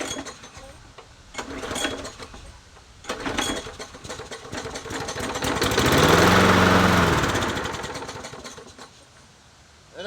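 A Bolens 22-inch push mower's 4.5 hp Quantum primer-bulb gasoline engine sputters and revs unevenly, dropping out briefly, then roars steadily louder before fading back down to a rough idle.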